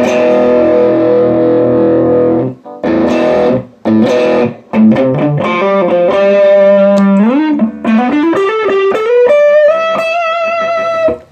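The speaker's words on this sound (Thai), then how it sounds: "ลองเสียงแตกครับพี่หมูครับ" An electric guitar played through a distortion effect on a pedalboard rings out loud and close: chopped chords with brief gaps, then sustained notes bending and sliding upward in pitch, alone without talk.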